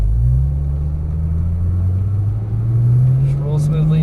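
A 2012 Porsche 997 S engine droning loud and steady on the Las Vegas Motor Speedway track, revs climbing gradually, with a few faint sharp clicks near the end.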